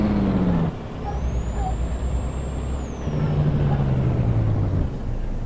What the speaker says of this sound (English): So, it's got an awesome gear down sound.